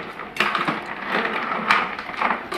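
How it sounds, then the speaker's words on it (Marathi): A ladle stirs clam curry (tisrya saar) in a metal pot, giving scraping and clinking strokes in an irregular rhythm, close by and fairly loud, with no voices. "तिसऱ्याचं सार बनवायला सुरुवात झाली आहे ढवळ तर आता आपण ढवळून घेतो आहे"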